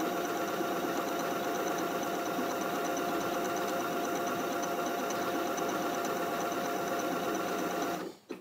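A sewing machine stitching a programmed design runs in a continuous fast, even whirr with a rhythmic mechanical hum, close and steady, before stopping abruptly at the end.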